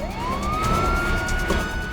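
A police car siren wails steadily, its tone sweeping up and holding, loud and fairly close over a rough background rumble, with no talking.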